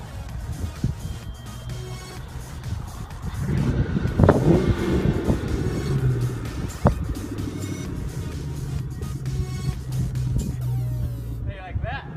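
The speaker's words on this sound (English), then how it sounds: "This is me driving the Cobra to my brother's house." A 2001 Ford Mustang Cobra is driven, its engine a low continuous rumble under wind buffeting, with a brief louder surge midway and occasional bumps, heard from inside the car.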